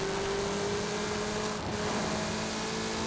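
Heavy traffic in Forza Horizon 5 as cars race four abreast along a two-lane street, giving a continuous loud engine drone and road roar with steady whining tones and no pauses.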